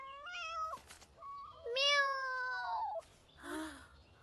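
A few cat meows in quick succession, high and drawn out, with short pauses between them; quiet and close.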